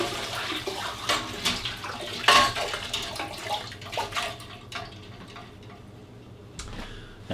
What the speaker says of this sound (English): we're going to fill up the pressure canner with water